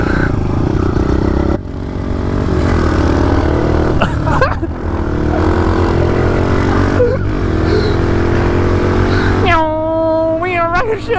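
A Kawasaki KLX pit bike revs indoors in an abandoned house, its loud mid-pitched engine droning and rising and falling through several throttle blips, with a sharp climbing rev near the end and voices heard over it.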